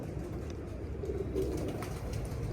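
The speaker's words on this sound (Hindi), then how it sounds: "सिंपल सा सादा सा कबूतर है।" A plain domestic pigeon coos softly and continuously in a low, murmuring drone, close by, with no voices over it.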